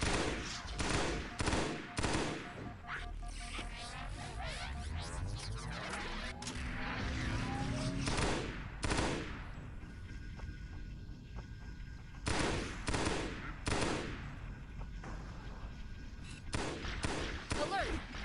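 Dense, sustained automatic gunfire in the Halo SPV3 video game rattles in long rapid bursts with heavy impacts, pausing briefly before more volleys crackle in.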